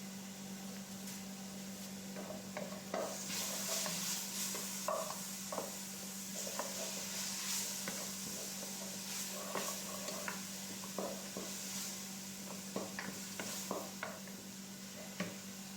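Whole chopped garlic fries in a little oil in a pan: a faint, steady sizzle beneath a low electrical hum, broken by light scrapes and clinks of stirring.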